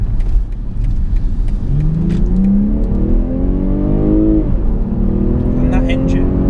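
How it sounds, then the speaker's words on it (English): BMW 840i M Sport (G14) engine accelerating from inside the cabin, a loud rising drone that climbs through the gears with a brief dip at a shift, then keeps pulling steadily. "And that engine, you can just hear it from that."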